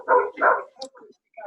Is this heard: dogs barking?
yes